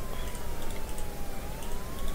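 Ambulance siren in the Emergency 4 LA mod video game during a tire shop fire mission, a continuous electronic wail that slowly shifts in pitch and sounds steady and unbroken over background game noise.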